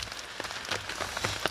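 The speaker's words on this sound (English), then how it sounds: "the rain has just been relentless. It's just been non-stop all night long, just patter, patter, patter." Steady rain patters on a hammock tarp through the night, a dense, continuous wash of soft drops with occasional louder splats, close overhead and unbroken by any voices.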